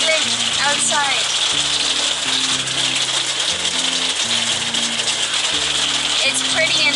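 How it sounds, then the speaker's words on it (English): Dense, steady hiss of hail pelting a stopped car in Montenegro, with music playing underneath and occasional chirpy tones. "it's hailing outside"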